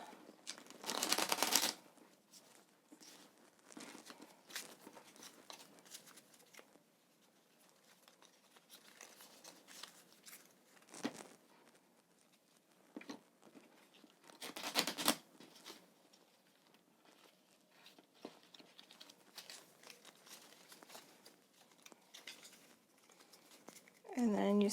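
Quiet rustles and soft riffling bursts of cards being shuffled, coming in short irregular flurries between long hushed stretches, with faint murmuring in the background.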